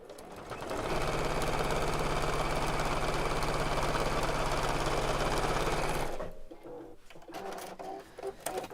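A sewing machine runs in one continuous fast burst of stitching through fabric for about five seconds, then stops, leaving quiet handling noises.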